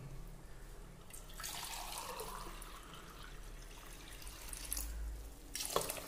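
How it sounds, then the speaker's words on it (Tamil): Water poured into a pot of rice for vegetable pulao, a steady splashing, gushing pour rising in the middle of the clip and tapering off near the end, fairly close with no talking. "இப்போ நம்ம தண்ணி ஆட் பண்ண போகிறோம்"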